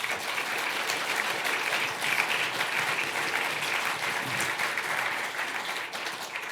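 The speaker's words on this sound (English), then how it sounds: "Please give all of our sponsors a round of applause." Sustained audience applause for conference sponsors fills the room, a steady dense wash of clapping that holds at even loudness for several seconds with no voices over it.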